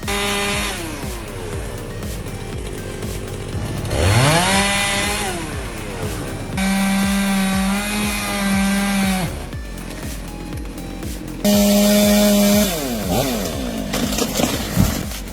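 A chainsaw roars through tree cutting outdoors, its engine rising and falling in bursts with sustained high revving passages and brief drops between cuts, loud and close throughout.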